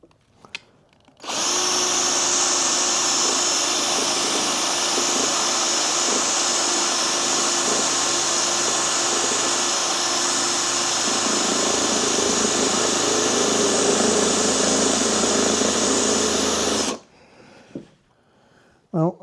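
A power drill bores steadily into the casing of a Jaguar XK8 engine control unit, a loud continuous whine lasting about fifteen seconds before cutting off, with no talk over it.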